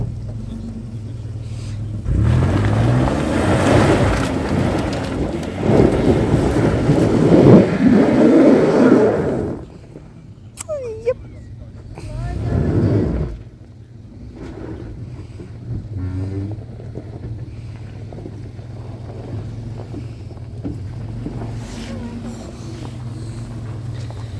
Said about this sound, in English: You're just spinning your wheels on takeoff.